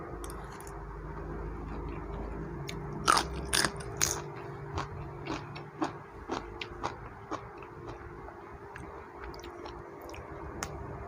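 Someone eats canned fish chili paste with fresh vegetables, producing close, crisp bites followed by a run of wet, squishy chewing sounds at an uneven rhythm.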